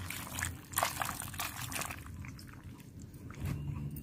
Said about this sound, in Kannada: ಈಗ ನೋಡಿ ಒಂದು ಎರಡು ಲೋಟ ನೀರು ಹಾಕ್ತಾ ಇದ್ದೀನಿ